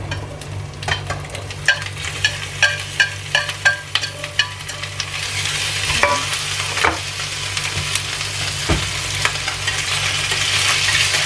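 Asparagus and wood ear mushrooms are stir-fried in a wok with prawns, with a rapid series of metal spatula clacks and scrapes over a low sizzle that grows denser and louder as ingredients go in.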